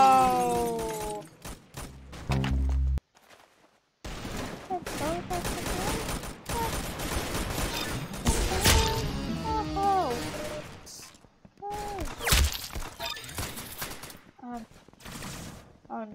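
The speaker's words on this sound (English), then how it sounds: "Oh no, this is a lightning cannon. This could be bad." Heavy weapon fire in Roblox Arsenal, a lightning cannon unleashing a dense barrage of blasts and crackling impacts mixed with other gunfire, loud and close, with game effects throughout and a voice talking over it.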